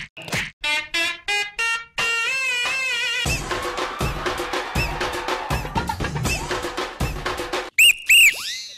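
Sharp whistle blasts during a comedic game segment on a TV stage show, with short tonal bursts near the start and a shrill rising-and-falling toot near the end, mixed with lively voices and stage noise.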